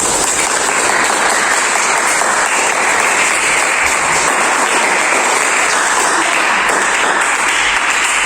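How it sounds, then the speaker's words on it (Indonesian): Vocational high school students clapping for their small groups in a classroom, a loud, dense burst of applause that holds steady throughout, with no talk over it. "ayo tepuk tangan untuk kelompok masing-masing semua"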